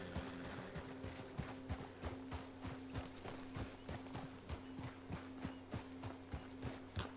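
A horse walks in Red Dead Redemption 2, its hooves clip-clopping in a steady rhythmic gait, with a low sustained ambient hum and a faint snort, moderately close.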